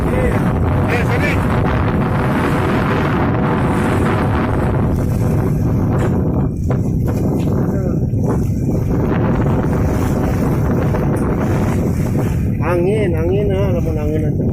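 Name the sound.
wind at sea on a fishing boat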